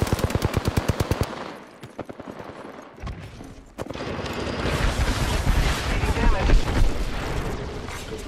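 Video game gunfire, a fast rapid-fire burst of evenly spaced shots up front, a brief lull, then a loud, dense roar of continuous shooting and blasts, with voices talking underneath.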